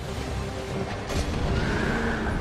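A horse whinnies amid heavy game-battle noise and crashing during a fight with the chariot boss in Dark Souls 2, with a rumbling wash of sound throughout.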